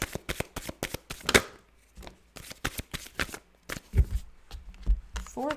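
A deck of tarot cards is shuffled by hand in quick, riffling bursts of crisp card slaps, close and fairly quiet, with short pauses between runs.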